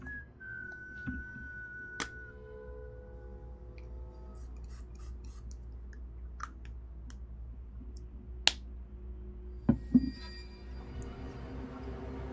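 A faint whistled tone sounds near the start. Scattered clicks and snapping sounds follow over a low steady background hum, and there is no clear speech.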